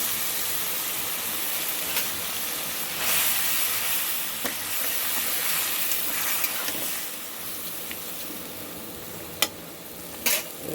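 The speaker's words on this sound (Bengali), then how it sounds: "এবার আমি মশলাটা জল দিয়ে রেখেছিলাম মশলাটা ঢেলে দিলাম" Water-soaked spice paste hits a hot pan and gives off a steady, loud sizzle and hiss, with a few sharp clicks of a spoon against the pan as it is stirred.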